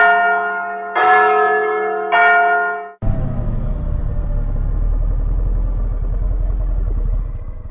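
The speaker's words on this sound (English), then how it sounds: "the church bells start ringing far away in town" A church bell rings out three loud, resonant strikes with long humming decay, then cuts off abruptly into a steady low rumble like an engine or vehicle running close by.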